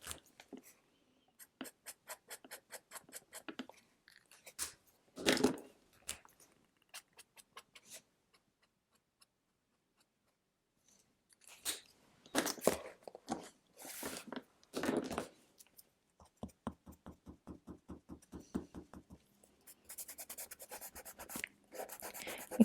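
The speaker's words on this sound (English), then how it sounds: "I can even erase it with my finger." A Pilot Frixion marker squeaks and scratches across a surface in rapid, rhythmic strokes. It comes in bursts with short pauses, and soft rubbing follows as a finger smears and erases the ink, all close and fairly quiet.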